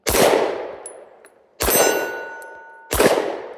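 Three shots from a SIG P365 X Macro pistol fired at a steel target, each a loud sharp crack with a ringing metallic clang trailing off, spaced about a second and a half apart, no talking.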